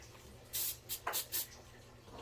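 Four short bursts of cooking spray hissing from an aerosol can into a pan, close by, with quiet room tone in between.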